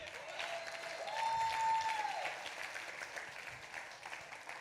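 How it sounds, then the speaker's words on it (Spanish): A church congregation applauds during a Spanish-language sermon, the clapping soft and distant, spread as a steady wash over several seconds with a faint sustained tone rising and falling beneath it. "Ahí es cuando vienen los aplausos."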